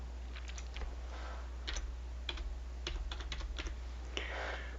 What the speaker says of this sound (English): Let's type in the word risers.